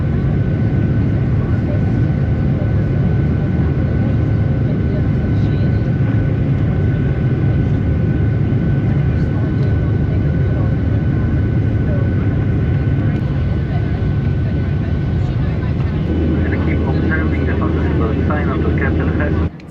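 A passenger jet climbs after takeoff from a damp, overcast Stansted, heard from inside the cabin as a loud, constant engine roar and rushing air that fills the whole stretch without a break.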